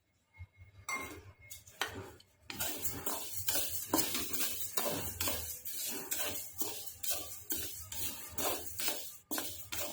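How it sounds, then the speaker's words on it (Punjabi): Flaxseeds are dry-roasted in a kadhai over a gas flame, with scraping, rasping stirring strokes against the metal in an irregular rhythm that starts quiet and builds to steady, close scrapes. "ਆਸੀ ਨੂੰ ਆਪਾਂ 5-7 ਮਿੰਟ ਭੁੰਨਾਂਗੇ"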